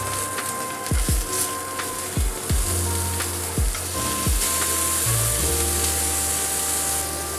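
Filet mignon steaks sizzle loudly in a pan as tongs flip them one after another. Several distinct thuds and clacks ring out over a steady, close frying hiss.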